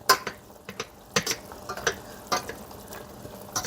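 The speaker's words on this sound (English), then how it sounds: "I'm going to mash it with a potato masher." Potato masher pressing and stirring through homemade tomato sauce in a pot, giving a series of irregular wet clanks and squelches close up, with no talking.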